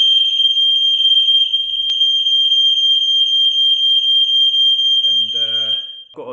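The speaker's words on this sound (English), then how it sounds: "a text message again saying carbon monoxide alarm activated" A carbon monoxide alarm in a tower block flat sounds a loud, continuous high-pitched tone at close range, and a voice starts speaking just as it ends.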